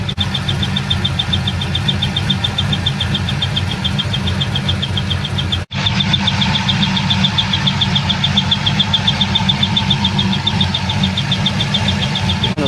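A persistently squeaking engine runs steadily in a car with a belt issue, its droning idle joined by a continuous high rhythmic chirp that carries on throughout, with a brief dropout near the middle.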